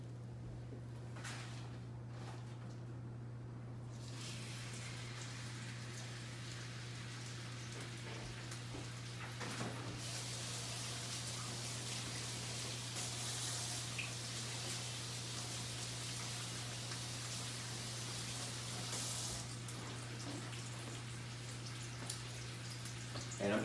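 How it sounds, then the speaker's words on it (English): A beef roast sears in a hot cast iron skillet with butter, giving a steady, rain-like sizzle with a low electrical hum underneath and no speech. "So I got my cast iron skillet nice and hot with the butter in there."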